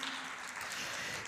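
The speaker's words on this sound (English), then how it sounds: "Big applause, please." An audience at a startup pitch session at a Baku IT forum breaks into steady, even applause from a crowd of many hands, moderately quiet and continuous without talk.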